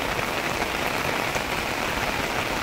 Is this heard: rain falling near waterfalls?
yes